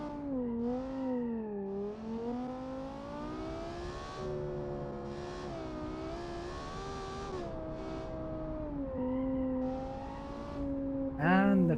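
A car engine in a racing video game revs and accelerates through repeated gear changes, its tone rising and dropping in steady climbs, fairly quiet and up close, with no talk over it.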